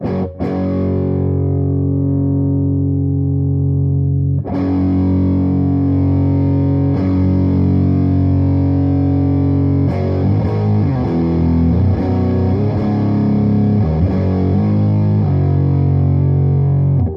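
Electric guitar through a Fulltone OCD or Joyo Ultimate Drive overdrive pedal rings out crunchy, sustained chords, then a run of gritty, broken-up, fuzz-like picked notes, loud and up close.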